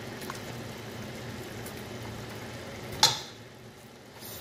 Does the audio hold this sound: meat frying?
yes